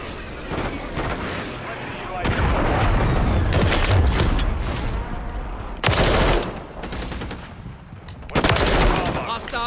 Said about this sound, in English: Hostile airstrike near your location.